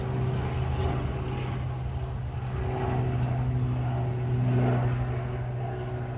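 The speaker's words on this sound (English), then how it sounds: "there's 2 planes" Propeller airplanes pass overhead, a steady low droning hum that swells gently toward the end, moderately loud outdoors with no voices.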